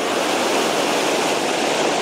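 A waterfall on Crooked Creek, Alaska, pouring as a dense, steady broadband rush of water, loud and close with no break or other sound.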